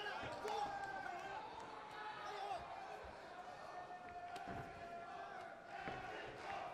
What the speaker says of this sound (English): This crowd just will not stop here in Frankfurt, Germany, as they are solidly behind Enriko Kehl here.